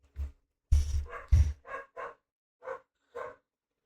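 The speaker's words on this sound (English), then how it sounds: "I don't know if you guys can hear my puppies." Puppies bark in a burst of high, yappy barks with a few quick closely spaced pairs, heard fairly near in a quiet room with no talking over them.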